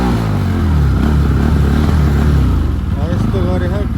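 A motorbike engine running after it has been started, a loud, close, low throbbing idle with a rough pulsing beat, while someone talks over it throughout.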